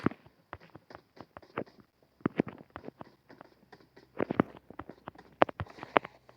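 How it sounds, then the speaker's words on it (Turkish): Rapid footsteps in an online shooter game patter in uneven bursts of sharp, close taps, some louder and nearer than others, with no talking over them. "Ayak sesi aldım."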